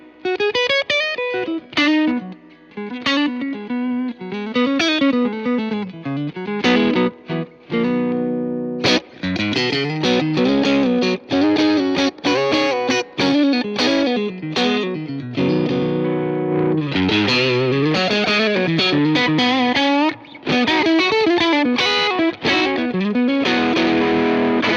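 An electric guitar plays through a Fender effects pedal with the gain turned down and the level raised, a continuous stream of loud, lightly driven chords and single notes with chorus-like shimmer, close and alone without speech.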